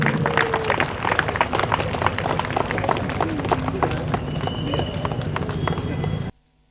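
A church crowd at a feast claps and cheers in dense, steady applause for several seconds, with a voice over a loudspeaker faintly underneath, before the sound cuts off abruptly.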